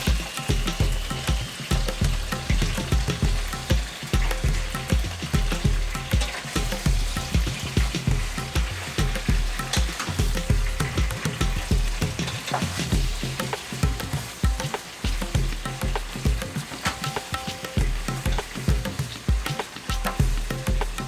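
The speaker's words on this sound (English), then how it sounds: "now we're just going to dump in the ginger garlic paste and our tomatoes." Loud, continuous sizzling and crackling as ginger garlic paste and tomatoes fry in a hot pan for a Pakistani dish, a dense popping hiss that keeps going without any talk.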